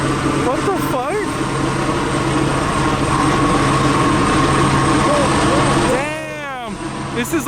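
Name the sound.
police helicopter overhead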